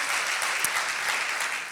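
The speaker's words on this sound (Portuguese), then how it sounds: "Dê uma salva de palmas a Jesus, por podermos estar a receber pessoas novas hoje." A church congregation applauds during a worship service, a continuous wash of many hands clapping at moderate loudness with a few sharper claps standing out.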